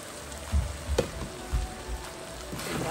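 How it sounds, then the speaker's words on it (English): Sweet peppers dropped into tomato sauce in a pan give a low, soft sizzle with a few quiet thumps and stirring scrapes, fairly close and without talk. "We're putting in our sweet peppers."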